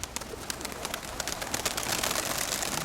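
A small young pigeon coos nearby in a steady, soft rhythm over a dense, noisy outdoor background.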